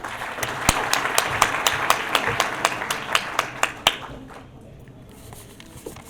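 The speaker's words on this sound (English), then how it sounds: "Please give them a round of applause." Scattered hand claps from a small audience at an indoor soccer cup evening event, a steady run of sharp separate claps that thins out and fades to a quiet murmur of room noise.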